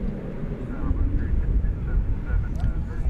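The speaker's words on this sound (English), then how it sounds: "So flight 3092 was that. 737-800. Coming in from Providenciales" A Boeing 737-800 airliner landing at DFW Airport, a low, steady jet rumble heard from a distance with wind buffeting the microphone and faint talk underneath.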